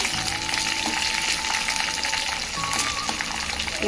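Dried red chillies frying in hot oil as the tempering for a lentil pappulusu, a continuous crackling sizzle with small pops at moderate level, heard alone.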